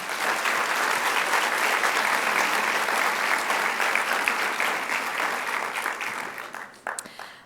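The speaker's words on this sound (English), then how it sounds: "Now let's give them a big round of applause" A school audience claps for students at a senior awards night, a dense, steady round of applause that holds for several seconds before thinning into scattered claps and fading near the end.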